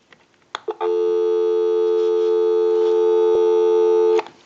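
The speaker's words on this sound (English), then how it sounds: "Go ahead and give you some dial tone." After a faint click, a steady dial tone from an Ericofon North Electric telephone hums continuously for several seconds, loud and close, then cuts off abruptly.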